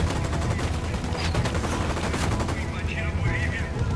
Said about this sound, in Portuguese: Aqueles caras estão atirando muito nesse emissor.